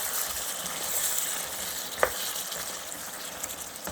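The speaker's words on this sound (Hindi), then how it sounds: "और अब हम इसको अच्छी तरह से भून लेते हैं" Mutton sizzles and fries in desi ghee in a pan, a steady soft crackle and hiss with one brief clink of stirring partway through.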